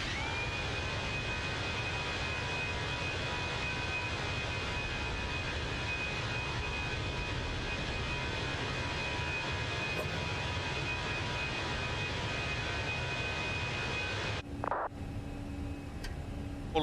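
Steady, loud roar of Airbus A320 jet engines at takeoff power in Microsoft Flight Simulator, a continuous broadband rumble with a high whine held throughout, briefly disturbed near the end.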